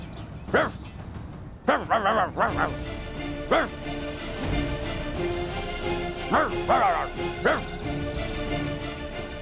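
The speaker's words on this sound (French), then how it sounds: "Qu'est-ce qu'un chien fait par ici?" A dog barks in short bursts, several yips spaced across the clip with a whining whimper between, heard over a steady background hum.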